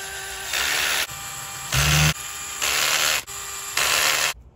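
A small 2mm electric driver drives M2.5 x 10 cap screws into an RC helicopter frame, buzzing in steady whirring bursts of about half a second each with brief pauses between them, then stopping.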